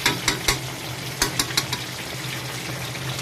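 Food sizzles and crackles steadily in a pan nearby, with a few sharp pops and clinks of stirring scattered through.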